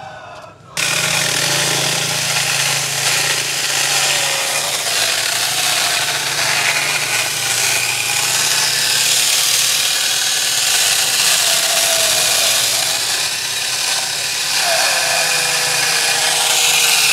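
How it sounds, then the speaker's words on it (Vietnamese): A hand saw cuts through a tree trunk close to the ground, a steady, loud, continuous rasping grind that runs the whole way with no pauses. "Cắt gần đất thì cắt cưa tay để đỡ khênh xuống."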